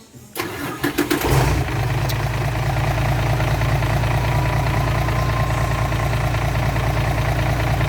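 An engine cranks and catches after a brief starter whir, then settles into a steady, loud idle with a constant low rumble.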